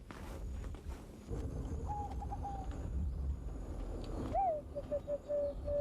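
A Burông Tité competition dove in Southern Thailand gives a couple of soft, sustained cooing calls, the second longer, over a low rumbling outdoor background with faint footsteps and movement.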